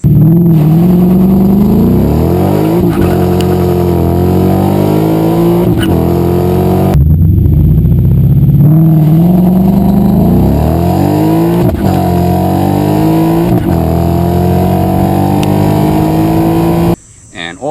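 A 2019 Mustang GT engine revs hard and loud, with repeated rhythmic surges as the rear wheels lose traction and hop, running continuously before cutting off abruptly near the end.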